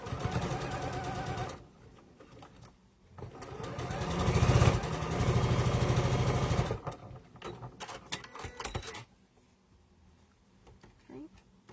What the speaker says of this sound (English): I'm now going to sew this one into place.